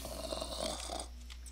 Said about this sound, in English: he's the snoring guy